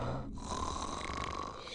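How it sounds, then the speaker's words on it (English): A loud cartoon snore sound effect from an animated Dr. Seuss sleep book: one long, rasping snore with a brief catch of breath near the start, up close and alone. "The snortiest snorers in all our fair land are the Snorer MacPhail and his Snorer Snore Band."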